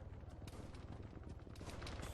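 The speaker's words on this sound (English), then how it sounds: "Yeah, I can hear more gunshots" Distant gunfire in the video game Arma 3, during a King of the Hill match: faint, rapid popping shots in irregular bursts over a steady low rumble, heard far off with no speech.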